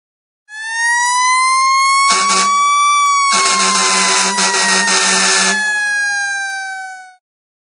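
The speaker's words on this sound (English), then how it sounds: "Fire engine." A fire engine siren sounds from a jigsaw puzzle toy, a loud electronic wail that sweeps in pitch for several seconds with rumbling engine noise layered in, alone before it cuts off.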